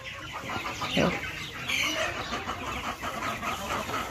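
Sonali chickens cluck and murmur in a noisy farm coop in Assam, several birds overlapping continuously at close range with no one talking.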